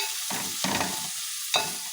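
Onions sautéing in hot coconut oil are stirred in a pan for a home-style chicken curry, giving a steady sizzle broken by a few louder scraping stir strokes, close and clear with no talking.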